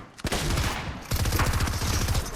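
Rapid bursts of video-game gunfire from an automatic rifle crackle loud and close, with dense repeated shots continuing almost without pause.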